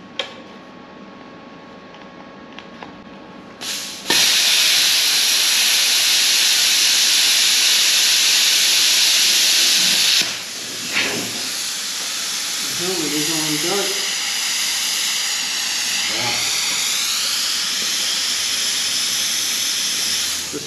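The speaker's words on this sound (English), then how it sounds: "I'm gonna cut this with the plasma." A plasma cutter slicing through metal in a fabrication shop: after a few quiet seconds a loud, steady hissing roar starts abruptly and runs on close up, with brief dips and tonal warbles partway through.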